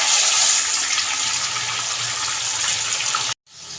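Half a cup of water is poured into a pot of chicken during home cooking. A loud, steady splashing pour runs for about three seconds, then cuts off abruptly into quiet.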